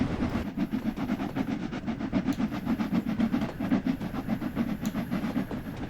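A steam train, The Manxman running from London Euston to Liverpool Lime Street in a train simulator video game, with a steady rhythmic chuffing and rumble on the rails throughout and no voices.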